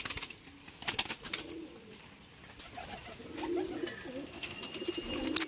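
Red Madrasi pigeons coo in low, rolling phrases inside a loft, several birds overlapping at moderate distance, with faint fluttering and background clatter.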